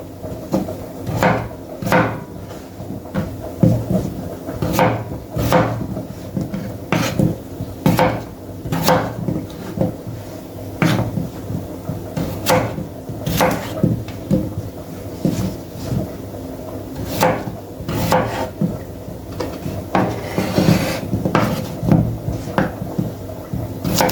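Oxtail being cut into pieces for soup, a long series of sharp, irregular chopping knocks against a board, close and fairly loud over a low steady background.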